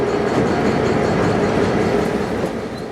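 A freight train rolls past near Miami, a loud, continuous close rumble of rail cars with rhythmic wheel clatter that eases slightly toward the end, with no voices.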